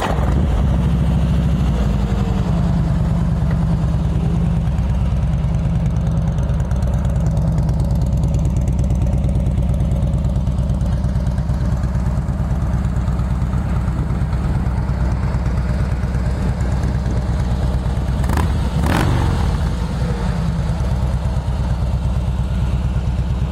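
A 2012 Harley-Davidson Softail Slim motorcycle engine idles steadily, a loud, close, low rumble that holds constant throughout, with a brief clatter near the end.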